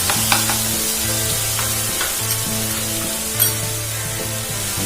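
Garlic paste for Saoji mutton curry fries steadily in a pan, a continuous crackling hiss with occasional stirring scrapes and small pops, close and fairly loud.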